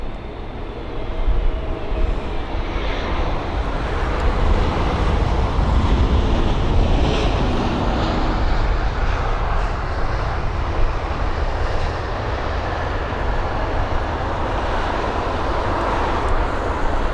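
A British Airways Airbus A350 arriving at London Heathrow makes a loud, continuous jet engine roar, with gusty wind noise mixed in and no voices.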